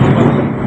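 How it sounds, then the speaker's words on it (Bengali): Thunder during the first rain of the season, a loud, deep, continuous low rumble filling the whole short moment with no break. "আমাদের এখানে মেঘ ডাকছে।"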